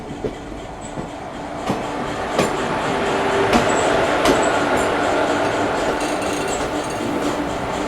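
Ahimsa Express passenger train running on the rails, a steady loud rumble heard from inside with periodic clickety-clack wheel beats and faint squeals, no talk.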